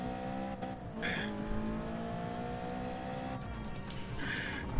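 A car swings through a J-turn in a racing game, its tires squealing in two drawn-out skids over a steady engine drone, with no talking.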